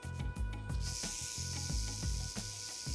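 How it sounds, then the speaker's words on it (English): A rattlesnake shakes its tail in a dry, continuous buzzing rattle that starts after a brief moment and holds steady, over a low rhythmic background. "A rattlesnake. And listen to that tail rattle."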